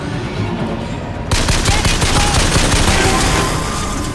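Turret gunfire in Bioshock Infinite: a loud, continuous rattle of automatic shots starts suddenly partway through and keeps going dense and steady under game noise.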